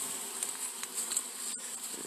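Honeybees buzzing steadily at their new hive after the colony was moved there, a continuous close hum with small swells and flickers throughout, no voices.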